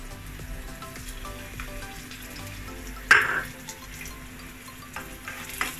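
Ginger frying in a pan with onion and garlic, a quiet steady sizzle with light stirring, one sharper clatter partway through, and a low hum beneath.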